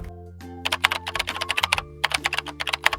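Rapid keystrokes on a computer keyboard while writing code in Visual Studio, close and crisp, in quick uneven bursts with a brief pause in the middle.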